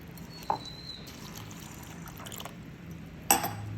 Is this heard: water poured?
yes